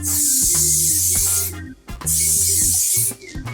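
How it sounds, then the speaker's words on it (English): Two long hissing sprays from an aerosol hairspray can, each lasting over a second, close and loud, with a short pause between them. "Then I'm going to spray that little cascade so it stays nicely spread out"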